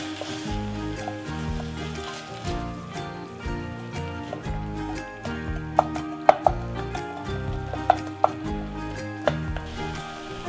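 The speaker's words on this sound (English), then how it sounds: "Stir constantly so they don't burn." Tobanjan and miso being stirred in a pan, a soft sizzle with scraping and several sharp taps of a utensil against the pan, heard under background music; no one speaks.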